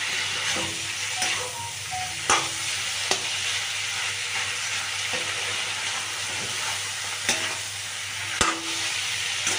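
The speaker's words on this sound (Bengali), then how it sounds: "3 মিনিট পর ফিরে এসে আবারও নাড়াচাড়া করে দিচ্ছি" Capsicum curry with spices being stirred in a pan over low flame: a steady broadband sizzle with occasional sharp scrapes and clinks of the spoon against the pan, continuous throughout with no talking.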